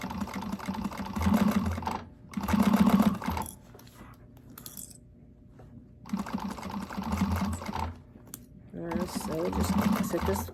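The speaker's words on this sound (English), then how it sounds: "so just sew this up completely" A sewing machine stitches a fabric bag in short loud runs of whirring needle chatter with brief stops between, close by, while a person talks softly over parts of it.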